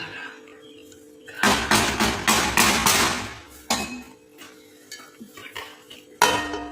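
Metal clatter from a pav bhaji cooking pot as its lid goes on: a burst of clanking knocks lasting about two seconds, then scattered lighter taps and one final sharp clink, near and fairly loud with no talk.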